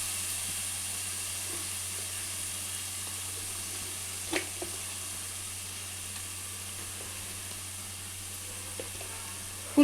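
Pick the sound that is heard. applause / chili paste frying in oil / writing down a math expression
chili paste frying in oil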